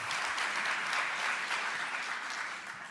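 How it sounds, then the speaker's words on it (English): An audience at a deep tech conference gives a warm round of applause for a government minister. The clapping is sustained and moderately loud, with no talking over it, and it eases off slightly toward the end. "warm round of applause for the Minister"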